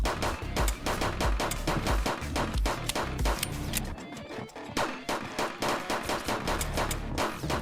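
Rapid gunfire in the sci-fi shooter Shell Runner: dense, loud, continuous bursts of shots with a short lull in the middle before the firing resumes at full intensity, no talk.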